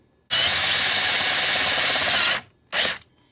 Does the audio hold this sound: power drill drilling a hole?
yes